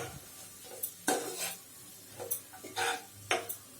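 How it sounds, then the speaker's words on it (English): Garlic cloves and ginger sizzle quietly in a pan over low to medium flame, broken by several sharp scrapes and clinks of a spoon stirring. "garlic cloves and ginger. Let it stir for 5 minutes."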